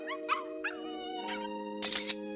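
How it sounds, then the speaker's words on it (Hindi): A cartoon dog barks and yips several times in short bursts over a steady tonal background hum, moderately near. "अभी मैंने एक डॉग की आवाज सुनी"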